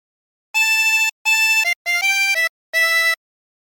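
A 16-hole tremolo harmonica plays a short phrase from The Wellerman: five breathy, wavering notes in a clear rhythm, the last held longer. It is close and solo, with silence before and after.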